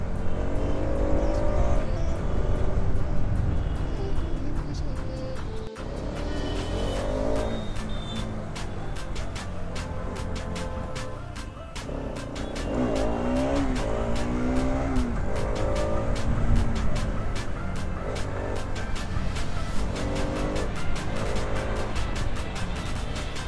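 A Kawasaki Ninja motorcycle with a loud aftermarket exhaust riding on the road, its engine note loud and close, rising and falling through repeated revs and gear changes over a long stretch of steady road noise.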